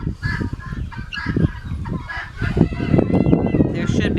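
Chicken clucking and squawking loudly while being held, with restless, repeated agitated calls close by and handling rustle underneath.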